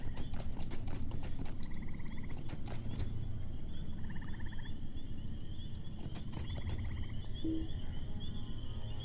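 Horse hooves clip-clopping in a steady rhythm while riding in the video game LOTRO, layered over ambient game sounds with occasional bird-like calls, continuous and fairly loud with no speech.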